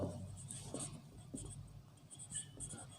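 Quiet pen or chalk strokes as a word is written on a classroom board, a series of soft scratchy bursts at close range with no speech over them.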